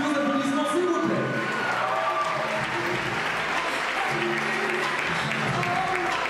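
Crowd applause at the Miss Saône-et-Loire 2014 beauty pageant, a steady, dense wash of clapping from a large audience that continues throughout, with music playing faintly underneath.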